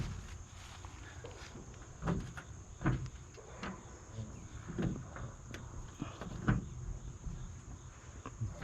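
A stuck door on a 1958 REO F20 Gold Comet truck being worked, with repeated dull thuds and rattles about every second against a quiet background hum.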